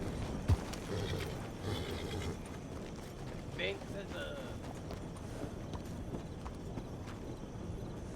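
Horse hooves clip-clop closer in the RanchRP roleplay video game, a steady trotting rhythm running under nearly continuous talk from players.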